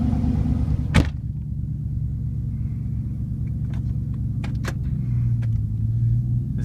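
A 2013 Chevrolet Silverado truck drives along, its engine a steady, loud low rumble heard from inside the cab, broken by a sharp click and several brief ticks and knocks.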